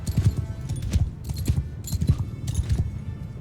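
Horse hooves pound the ground in a Mount & Blade II Bannerlord battle, a quick, rhythmic clip-clop of galloping mounts that stays close and steady throughout.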